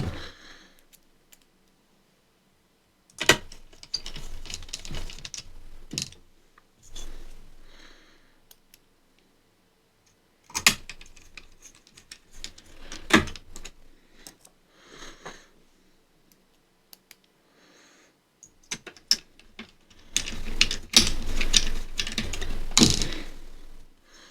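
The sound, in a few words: screwdriver tightening screws on an Asus X550JK laptop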